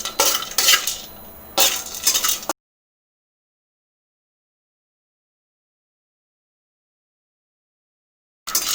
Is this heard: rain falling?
no